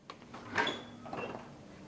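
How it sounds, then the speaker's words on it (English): Heavy archive vault door swinging open with a creak, a short drawn-out groan in a quiet room, fairly close and moderately loud, with a brief knock at the start. "Nice creak of the door."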